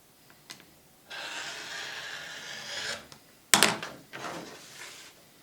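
Scissors or a cutter slicing quilting fabric for a label, a soft close rasping cut lasting a couple of seconds, then a sharper snip and shorter rustles in a quiet room.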